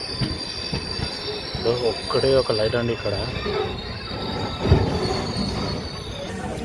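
A Satavahana Superfast Express train at dark Kesamudram station during a one-minute halt: steady rolling rumble with bursts of squealing wheels, while a person talks close by.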